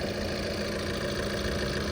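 A Tata Nexon XMA diesel car engine idles steadily at close range with an even low rumble and faint vibration, no talk over it.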